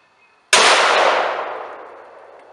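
A Lazer Arms XT7 12-gauge single-barrel shotgun with a 20-inch barrel, fitted with a Chiappa X-Caliber adapter kit, fires one loud, sharp blast outdoors that rings out and decays slowly over about two seconds.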